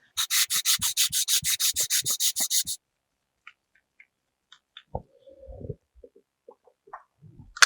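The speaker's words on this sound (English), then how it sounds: "keep steady pressure on the sanding beam as I go back and forth" Rapid rhythmic rasping of a sanding beam scraping back and forth over a wooden guitar neck, a dozen quick strokes, then quiet handling clicks and small knocks.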